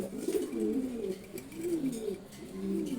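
Several male pigeons coo in low, throaty, rolling phrases that repeat in waves, close by and fairly soft, with no talking over them.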